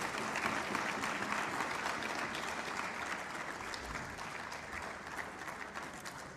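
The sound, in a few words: audience applause welcoming a speaker at lawyers' conference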